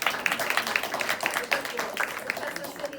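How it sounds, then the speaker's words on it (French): Brief audience clapping for a speaker at an entrepreneurs' lunch event, a light, scattered patter of hands that stays fairly quiet and irregular. "On peut t'applaudir."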